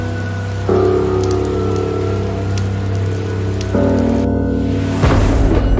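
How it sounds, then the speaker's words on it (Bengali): Steady rain pours down with dense hiss and patter on surfaces, swelling louder twice and ending in a heavier rush, used as a sound effect in a Bengali audio folk story. "এ কি, বৃষ্টিটা আবার শুরু হলো?"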